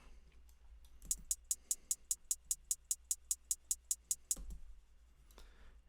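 A crisp, ticking two-step hi-hat pattern at an even quick pace, around fifteen sharp hits in a row over a faint low hum.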